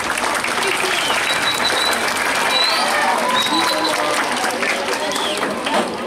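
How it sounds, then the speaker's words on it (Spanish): An audience at a Chilean Gendarmería canine unit presentation gives a sustained round of applause, dense clapping close and loud throughout, with some voices mixed in. "ya un aplauso para ellos"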